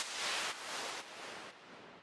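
A Supermassive Swollen Pad preset at a 36% mix in an organic house track gives a wide, hissy wash of diffuse noise that steps down in level every half second, soft and alone without voices.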